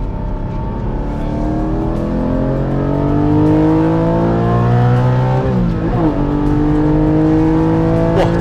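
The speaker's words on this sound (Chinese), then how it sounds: "这个档位真的是太清脆、太清晰了" A manual Porsche 718 Cayman GT4 with a naturally aspirated boxer engine pulls hard on a race track, its loud engine note rising steadily through the gears, with a quick shift and dip near the end before climbing again.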